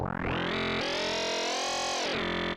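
UVI Rumble bass synthesizer plugin playing a sustained, buzzy note in its reso form mode, a loud resonant tone whose filter sweeps up and then falls back down, heard alone.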